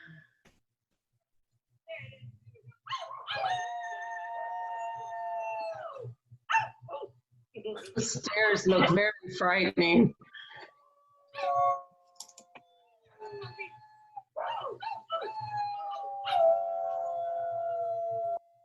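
Dogs howl in drawn-out, wavering calls, some rising and falling, with a burst of barking in the middle, heard among brief spoken words.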